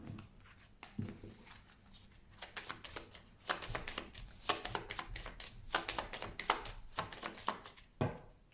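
Tarot cards being shuffled by hand, a close series of soft riffling swishes and light taps in irregular bursts, steady and fairly quiet with no talk.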